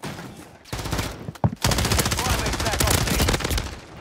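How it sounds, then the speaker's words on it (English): Gunfire from enemies shooting in the video game Warzone 3, a short burst, a pause, then a long sustained rapid automatic volley, loud and close with no talk. "there's fucking two dudes shooting me"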